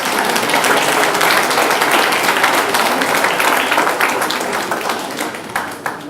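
Guests at a golden wedding anniversary celebration in Marly clap for the couple, a dense burst of crowd applause that holds steady and then thins out and fades near the end.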